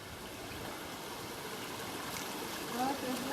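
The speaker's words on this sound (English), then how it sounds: "there's water running over this" Water flows over rocks along a bush creek near Dundundra Falls, a steady broad rushing trickle heard outdoors, with a faint voice near the end.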